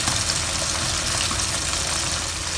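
Chicken pieces deep frying in very hot oil, a continuous dense sizzling and bubbling hiss, close and steady throughout with no talking.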